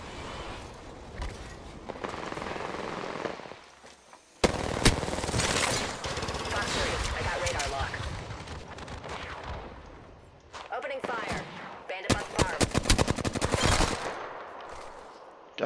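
Gunfire in the Apex Legends video game, with bursts of loud rapid shots and sharp single cracks broken by brief lulls and a near-silent gap, under occasional speech.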